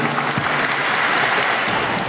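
An audience at a Saturday Bible training certificate ceremony applauds a priest lecturer, a dense, steady wash of many hands clapping alone for about two seconds.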